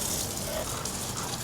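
A jet-spray hose nozzle blasts water onto a motorcycle being washed, a steady, close hissing gush that runs unbroken without pause.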